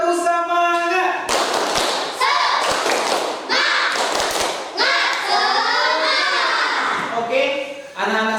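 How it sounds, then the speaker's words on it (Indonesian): A classroom of Indonesian children doing the rhythmic tepuk semangat clap chant, bursts of loud patterned clapping mixed with shouted chanting voices in quick repeated phrases. "Agar lebih semangat, kita tepuk semangat dulu."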